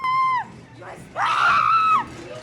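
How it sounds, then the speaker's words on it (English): People scream at the Waco Schoolhouse Haunt, a haunted house attraction, with two loud sustained shrieks separated by a brief pause over a background murmur. "the spooks and screams of the Waco Schoolhouse Haunt"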